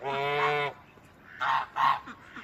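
Indian runner ducks honk loudly up close: one long nasal call followed by two shorter honks with a brief pause between.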